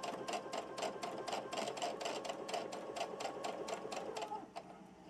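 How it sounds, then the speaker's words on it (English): A sewing machine stitches burlap and felt, its needle hammering out a fast, even rhythm of stitches nearby before slowing to a stop. "Now I'm going to take it over to my sewing machine and I'm going to stitch it"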